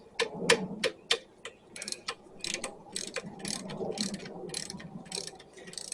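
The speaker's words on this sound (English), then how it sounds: "I'm going to take the spark plug out now" A ratchet works the spark plug loose on a John Deere JS63 self-propelled push mower, making a close series of crisp clicks, first spaced apart and then in a faster, steady rhythm.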